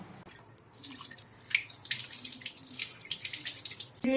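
Water from a kitchen tap splashes over a peeled pumpkin being rinsed, as a continuous, fairly close gush with small shifts in the splashing as the pumpkin is turned.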